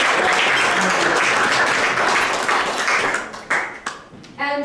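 A lecture audience at an arborist talk on trees applauds speaker Chris loudly. The dense clapping thins out toward the end, where a few separate claps and a brief voice come through.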